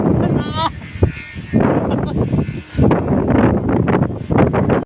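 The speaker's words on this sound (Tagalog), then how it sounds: "Sobrang lakas talaga ng hangin ngayon." Loud gusty typhoon wind buffeting the microphone in rough bursts during kite flying, with a bleating animal briefly near the start and faint voices mixed in.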